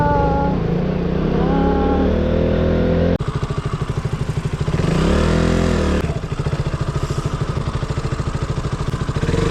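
A KTM Duke 200 BS4 motorcycle being ridden, its engine a loud, steady mid-pitched drone with a pulsing throb, rising in a brief rev before settling back; wind roar fills the background and nobody speaks.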